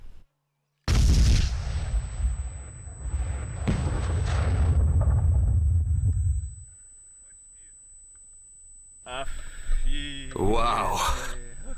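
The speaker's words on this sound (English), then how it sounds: "Hit the target with a grenade." A grenade launched at a target bursts in a sudden, very loud explosion with a long rumbling tail that fades to near silence, followed by a voice speaking afterward.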